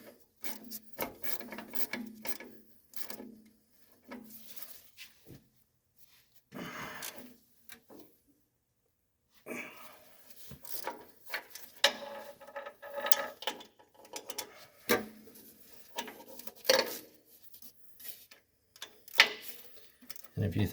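A small stubby ratchet works on the PTO drive of a 1964 Ford 4000 tractor, with bursts of quick clicking and metallic tool handling in an intermittent rhythm and a pause partway through, close and moderately loud, with someone talking at times.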